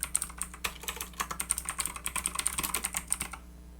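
Text typed on a computer keyboard while entering content on a Mac, a rapid, even run of crisp key clicks, close and alone, stopping abruptly near the end.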